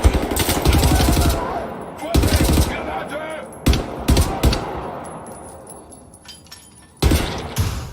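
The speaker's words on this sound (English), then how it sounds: "And you can hear and feel the punch of every round leaving the barrel of the weapon." Heavy weapon fire in the Wolfenstein reboot video game, sharp loud bursts of rounds in several separate volleys, each cut short and followed by a decaying tail, with a final burst near the end.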